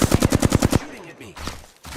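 Automatic gunfire in Apex Legends: a loud, rapid burst of about nine evenly spaced shots, followed by quieter scattered game sounds.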